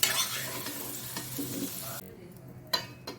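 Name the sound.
frying potatoes in oil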